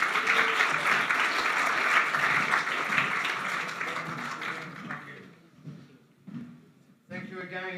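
An audience at a chamber of commerce event applauds a speaker: a dense burst of clapping that is loud at first and thins out after a few seconds, followed by someone speaking.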